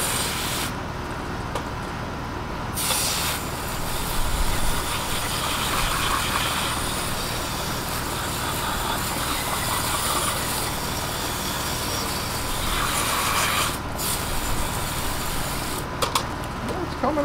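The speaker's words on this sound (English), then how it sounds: "I like to give it a good spray it off really hard, especially up into the top" A hard water spray blasts a Dietz Junior No. 20 lantern clean, aimed up into the top and along the fount and tubes, a steady broadband hiss that runs continuously with brief dips and surges.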